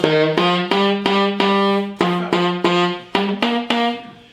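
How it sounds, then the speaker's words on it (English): A beginner plays saxophone with slap tonguing, producing a string of about ten short notes. Each starts with a percussive pop at a fairly steady pulse, loud and close with no talking. "That's actually slap tonguing"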